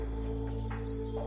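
Crickets chirp steadily through a quiet night, a continuous high trill that stays even and unbroken from start to finish, with no voices.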